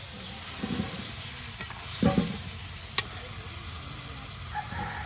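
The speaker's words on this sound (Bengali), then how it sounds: "আর এখন দেওয়া হচ্ছে কিছু পরিমাণ চিকন লবণ পানির সাথে সব কিছু মিক্সড করিয়া" Fish curry of boal fish with eggplant being stirred in a pan after salt and water are added, giving a steady low sizzle with a few soft scraping stir strokes, close and moderately quiet, with no talking.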